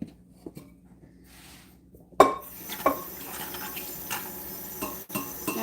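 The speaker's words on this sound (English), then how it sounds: "going to rinse these. Just rinse them in the pot to make my life easier." Metal utensils clink and scrape against a cooking pot while being rinsed in it, a few sharp knocks over a low running-water wash, close and fairly quiet.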